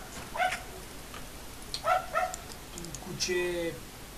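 A dog barks in a PvP video game, giving a few short yips and barks spread over several seconds, fairly faint, with players talking in the background.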